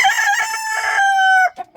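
A farm rooster crows once, close and loud, in a single drawn-out cock-a-doodle-doo, followed by a couple of short clucks.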